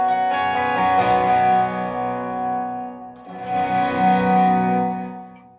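Electric guitar run through an octave effect blooms into a long delay pedal trail, with layered sustained notes, heavy echo and reverb, a fresh swell partway through, and no talking.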